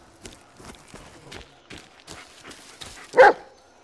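A dog gives a series of short, moderately close barks and yips in a steady rhythm, ending in one louder bark.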